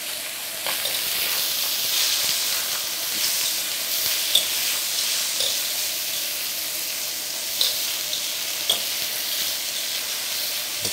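Vegetables sizzling and frying in a pan, a steady hiss broken by occasional stirring clicks and scrapes, moderately close with no talking.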